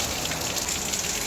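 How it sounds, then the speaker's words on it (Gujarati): Heavy monsoon rain pouring down in Surat, a loud, dense, unbroken hiss of drops drumming on surfaces with no voices. "જોરદાર વરસાદ."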